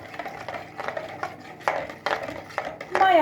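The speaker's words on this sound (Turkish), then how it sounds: "Bu üç malzememizi güzelce kaşık yardımıyla karıştıralım." A spoon stirs yeast, salt and milk together in a bowl for mini bread dough, giving soft clinks and scraping strokes in an irregular rhythm, close and fairly quiet, with no speech.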